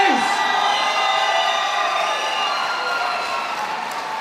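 Fans at a CW70 fight event cheer and whoop from a crowd behind, a sustained roar with shouts rising above it, loud and close, while voices talk.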